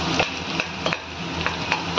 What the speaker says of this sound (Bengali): রসুন কুচিটা দিয়ে কয়েক সেকেন্ড একটু ভাজা ভাজা করে নেব।